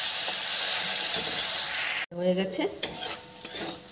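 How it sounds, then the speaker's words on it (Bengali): Pointed gourd (potol) pieces fry hard in oil over a high gas flame, giving a loud, steady sizzle for about two seconds before it cuts to quieter clinks and a brief spoken phrase. "গ্যাসটা জোরে দিয়ে পটলগুলো সব ভেজে দেবো।"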